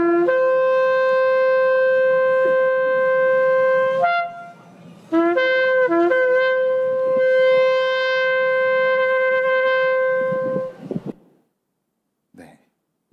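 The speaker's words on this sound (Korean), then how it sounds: "이게 바로 희년을 알리는 요벨의 소리라고 합니다." A shofar, a ram's horn trumpet, is played back from a recording. It gives long, steady, brassy blasts, a short burst of quicker notes and another sustained call before trailing into silence.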